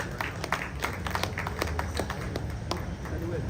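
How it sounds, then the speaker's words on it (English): A crowd applauds at a Ghana Journalists Association gathering, a steady patter of many hands clapping close by for a few seconds without pause. "Please do a big round of applause."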